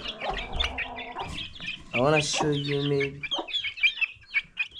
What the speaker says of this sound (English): there's some chicks inside here